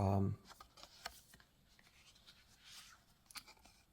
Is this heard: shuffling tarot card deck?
yes